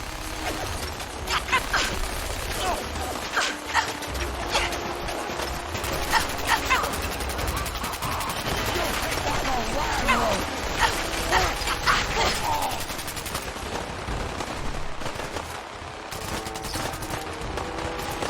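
Dense automatic gunfire from a minigun mixed with laser weapon shots in the Fallout video game, a continuous loud barrage of rapid bursts and mechanical clatter throughout, with no voices.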